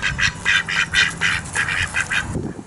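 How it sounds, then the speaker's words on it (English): Ducks quacking by a large pond at a historic Acadian village in Lafayette, Louisiana, a rapid run of loud, close, nasal quacks one after another, with no talking. "And there are a lot of ducks around."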